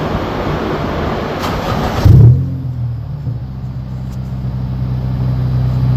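A supercharged 9th-generation Honda Civic on a dyno roars loudly, then the engine note drops sharply into a steady, lower drone that holds nearby.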